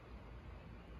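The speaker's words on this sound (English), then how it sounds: "And here's the 22 suppressed." A suppressed .22 rifle fires a single sharp, loud report right at the end, breaking a stretch of quiet low background hiss.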